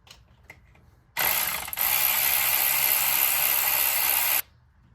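A ratchet wrench turning out an M6 bolt on the cam sensor of a 2003 Jeep Liberty Limited 3.7L: a fast, continuous metallic clicking for about three seconds, close and loud, starting and stopping abruptly.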